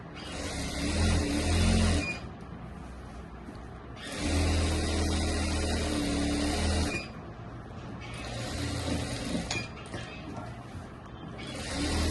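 A sewing machine stitches a Rajputi kurti, running in two loud bursts of about two and three seconds separated by quieter pauses, with steady motor whir in the background.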